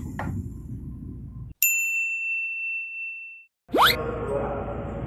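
A single bright electronic door-closing chime rings out on a KRL commuter train from Manggarai to Bogor, lingering over steady background rumble, followed by a rising whine as the train starts moving.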